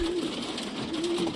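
Domestic pigeons, including flying-breed hens, coo in two low, rolling bursts, one at the start and another about a second later, over a steady background hiss.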